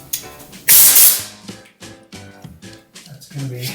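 An EZ Pro wall texture spray gun blasts a loud burst of air through its nozzle to clear it, a sharp hiss lasting about half a second, followed by clicks and handling noises while someone talks nearby.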